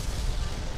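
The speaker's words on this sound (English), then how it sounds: "that was the explosion." A bomb explosion in the video game Dual Destinies, a loud dense rumbling blast filling the whole short moment with heavy low-end roar and no clear onset or decay.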